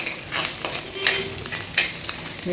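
Green chilies and curry leaves sizzle in a pan of hot oil for a Kerala fish curry, crackling steadily up close with occasional louder pops and stirring.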